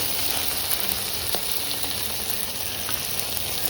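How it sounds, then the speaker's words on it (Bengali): Onion and eggplant fry in oil in a pan, a continuous, close hiss of sizzling with faint occasional clicks and no talking. "পুরো ভাজা ভাজা হতে থাক, পেঁয়াজ, বেগুন, তেল"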